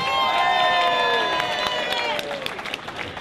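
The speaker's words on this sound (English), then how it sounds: "Give him a big round of applause." Outdoor crowd at an anti-war, anti-NATO demonstration in Newport applauds and cheers a speaker being introduced, a dense burst of clapping and whistling that fades toward the end.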